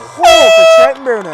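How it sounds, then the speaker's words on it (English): Loud, steady air horn blast from football fans in the stands at a varsity game, sustained for about half a second before cutting off, with a play-by-play announcer talking over and around it. "We do have some fans with air horns"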